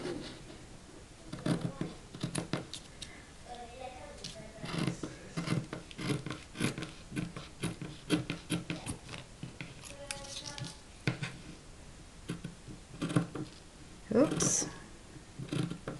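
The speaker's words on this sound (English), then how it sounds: "I need good scissors, you guys. I have terrible scissors." Scissors snip through fabric while a mixed-media fabric tag is being made: a close, uneven run of crisp cuts and rasping blade strokes with short pauses, plus faint handling noise and a bit of voice.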